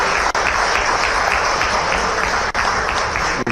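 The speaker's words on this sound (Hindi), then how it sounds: "जोरदार ताली बजाओ" An audience breaks into loud, sustained applause, a dense, continuous wash of clapping that holds steady throughout.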